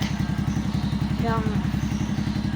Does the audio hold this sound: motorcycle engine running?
yes